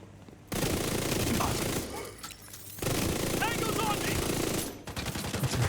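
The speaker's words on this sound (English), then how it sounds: "Shooting." Rapid video-game gunfire bursts in dense, sustained volleys, loud and close, broken by a couple of short lulls, with a voice talking over the shooting.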